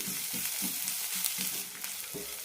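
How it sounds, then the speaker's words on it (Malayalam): Sliced onions sautéing in a pan for Palakkad-style tomato chutney, a soft steady sizzle with rhythmic stirring scrapes, close and without talk. "സവാള കുറേ നേരം വഴറ്റേണ്ട ആവശ്യമൊന്നുമില്ല നല്ല ട്രാൻസ്പാരൻ്റ് ആയാൽ മതി"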